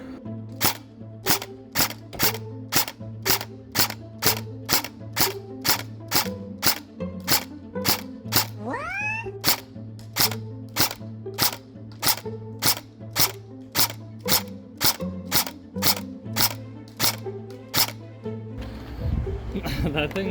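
An E&L AKMS airsoft electric gun fires a long string of sharp single shots at a steady, quick rhythm, close and loud over a constant motor hum, ending with a brief rustle of handling.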